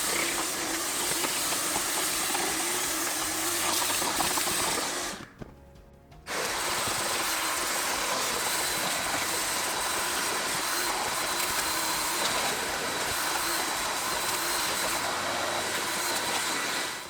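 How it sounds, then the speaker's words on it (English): A vacuum cleaner works over the extremely plush, high-pile 40-year-old carpet of a Toyota Cressida, giving a steady loud whooshing drone with one brief break of about a second before resuming. "I begin the satisfying task of vacuuming the extremely plush carpet"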